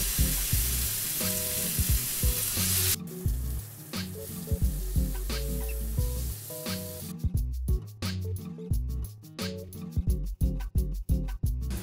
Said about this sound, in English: we're going to sear the beef and get a nice brown coating on the outsides